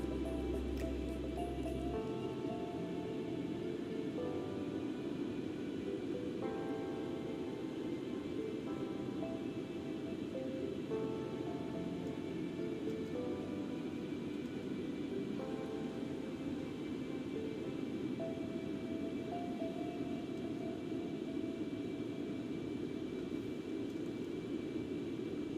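Steady, constant jet-engine drone of a simulated Concorde at supercruise in X-Plane 11, on a Heathrow to Barbados flight, a continuous broadband roar with a faint tonal hum running unchanged throughout, no talk.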